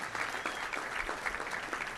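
Applause from an audience at a touchdown club luncheon, a steady wash of many hands clapping at a fairly faint, distant level for about two seconds.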